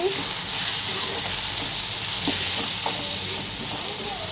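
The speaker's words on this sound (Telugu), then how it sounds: "ఉల్లిపాయ, టమాటా వేగిపోయాయి." Chopped onion and tomato sizzle steadily in hot oil while a fish gravy is being made. The frying hiss is soft and continuous, with faint scraping stirs.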